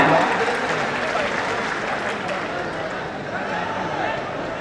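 Audience applause at a political gathering welcoming a legislator to speak, a steady dense wash of clapping through the whole stretch with crowd murmur underneath.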